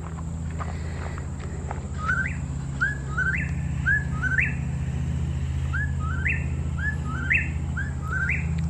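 Repeated rhythmic whippoorwill calls ring out over a steady low hum in Bernheim Forest, Kentucky, the clipped whistled phrases coming again and again at a moderate distance.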